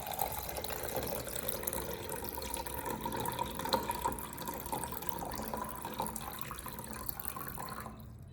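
Steady running water splashing and trickling, continuous and fairly quiet, like 300 millilitres of water pouring from a tap into a vessel, with no voices.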